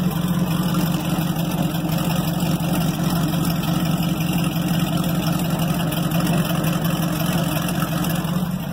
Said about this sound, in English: I think it's just the exhaust going boom, boom, boom, boom, boom, boom.